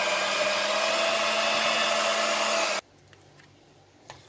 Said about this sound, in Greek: Το παγωτό το έκανα ακόμα μια φορά στο μίξερ